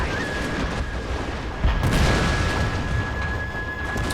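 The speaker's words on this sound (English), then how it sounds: "Oh, they're actually firing back at us." Artillery fire in a video game, rumbling booms over a loud, steady battle din, with one heavier thump partway through, close and dense.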